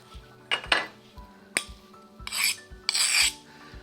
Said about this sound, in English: And I rub the edges against each other to take off the sharp edges off the glass.